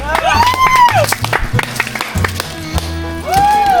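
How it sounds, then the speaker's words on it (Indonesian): A small group of hikers on a wide savanna grassland near a mountain summit claps together, sharp distinct claps close by mixed with talking and a whistling tone. "Tepuk tangan dulu."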